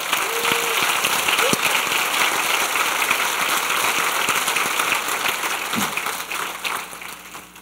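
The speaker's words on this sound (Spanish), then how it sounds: "Vamos a darle un aplauso al Señor." Congregation applause during a Spanish-language church service, a steady wash of many hands clapping heard from within the room, fairly loud and continuous before slowly thinning toward the end.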